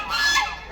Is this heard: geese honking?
yes